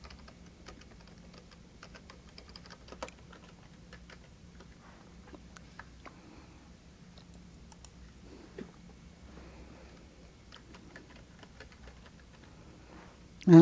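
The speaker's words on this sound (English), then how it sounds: "we're going to go to Advanced Search. And type in Huckleberry Finn." Computer keyboard typing during an online library database search, with light irregular key taps, soft and close, and no talking over them.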